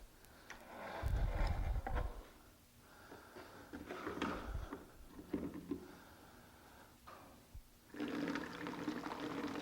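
Water pours into an opaque jug already holding dye, in uneven rushing, splashing bursts over several seconds, with short pauses and a fuller stream near the end.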